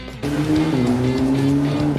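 A Ferrari 328 GTS engine revs hard and climbs in pitch as it surges forward, with a brief tire squeal; loud and close, no talking.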